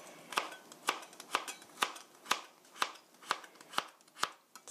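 Carrots sliced with a knife on a cutting board for japchae, giving about ten crisp, evenly spaced chops, close and fairly quiet, with no talking.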